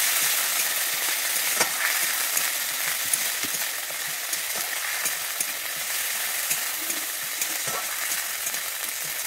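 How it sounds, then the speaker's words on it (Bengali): Ground ginger and green chili paste sizzle steadily in a pan. A spatula stirs it, giving occasional sharp scraping clicks over the constant hiss. "কাঁচা লঙ্কাটা দিয়ে দিচ্ছি। দিয়ে আমি এটাকে একটু নেড়ে নেব"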